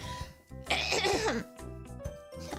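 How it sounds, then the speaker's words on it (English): A person coughs and clears their throat a few times, close to the microphone, with brief pauses between the bursts. "I have to cough for some reason."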